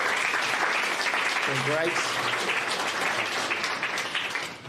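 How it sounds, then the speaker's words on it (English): Loud, sustained applause from an audience at a startup innovators awards launch event, clapping dense throughout and easing slightly at the end, with a voice speaking briefly over it. "So a round of applause to our outgoing sponsors."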